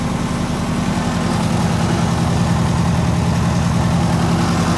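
A neglected, abused 1980 Clark Bobcat 732 skid steer runs close by with a steady, low, throbbing engine idle that holds evenly throughout.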